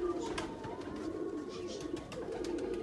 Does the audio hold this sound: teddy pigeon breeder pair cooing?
yes